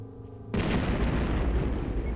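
A missile blast in the TIE Fighter game hits suddenly after a low engine hum, then rolls on as a loud, sustained roar of crackling explosion noise.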